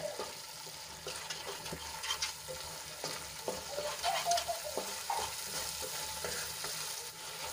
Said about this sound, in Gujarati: આ રીતે આપણે 1-2 મિનિટ સુધી સાંતળી લઈશું, જેથી કરીને મસાલા આપણા સારી રીતે સંતળાઈ જાય